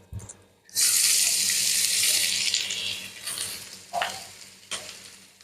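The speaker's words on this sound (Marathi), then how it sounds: "पॅनमध्ये थोडं तेल टाकते त्या तेलामध्ये आपण ह्या सगळ्या भाज्या" Chopped vegetables dropped into hot oil in a pan for pav bhaji burst into a loud, steady sizzle that fades gradually, with a few stirring scrapes near the end.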